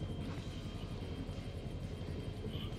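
A helicopter drones steadily in the video game House of Ashes, a continuous low rotor rumble with a faint rhythmic thump that stays constant and fairly close throughout, with no voices over it.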